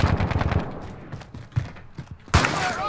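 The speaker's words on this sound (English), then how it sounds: "Are you shooting on someone?" Automatic gunfire from Call of Duty Modern Warfare, with a fast, close, loud burst of shots at the start, then several scattered heavy reports, and a sharp crack with a trailing rush near the end.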